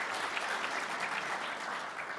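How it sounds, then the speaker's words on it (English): Audience applause for Tim and Abby at a firehouse behavioral health training event, an even wash of many hands clapping, moderately quiet and steady throughout. "give them a round of applause for their area here"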